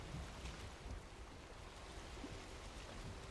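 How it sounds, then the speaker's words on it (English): Water washing and slapping against a sailing boat's hull in the video game Valheim, a steady faint broadband wash with wind, no voices. "I think I heard the water slapping itself."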